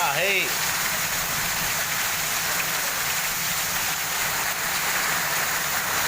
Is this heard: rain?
yes